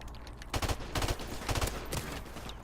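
Three-round bursts from an M16 with a reflex sight in a first-person shooter video game, four short clusters of sharp reports spaced about half a second apart, loud and close.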